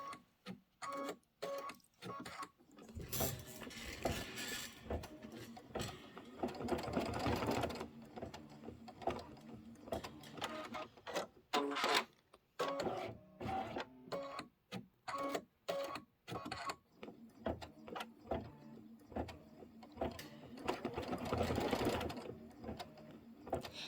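Embroidery sewing machine stitching a quilting design with topping in place: rapid mechanical needle chatter in long runs, broken by brief pauses and short ticking stretches.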